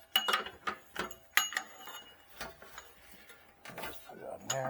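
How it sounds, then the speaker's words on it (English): Wrench clicks and scrapes against the oil filter on a Nissan Frontier, a series of short, irregular metallic ticks and knocks close by, fairly quiet, with a few faint rustles between them. "we'll put a little bit of a wrench so you can loosen that up pretty good"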